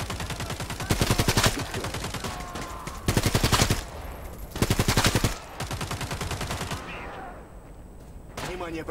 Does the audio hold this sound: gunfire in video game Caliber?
yes